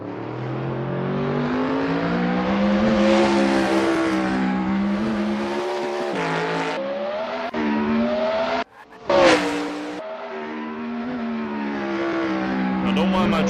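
A Dallara F3 race car in the Assetto Corsa sim racing game screams through the gears, loud engine revs climbing and dropping with brief cuts at shifts and a short tire squeal, a voice talking faintly underneath.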